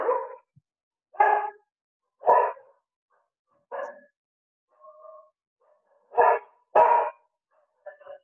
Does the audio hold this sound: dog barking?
yes